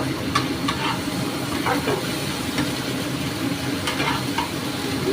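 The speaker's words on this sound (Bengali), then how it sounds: "একটু হলুদের সাথে নাড়ানাড়ি করছি" Small fish frying in oil with turmeric are stirred in a pan, a steady sizzling hiss punctuated by periodic scraping strokes of the spatula, close up, with a voice talking faintly underneath.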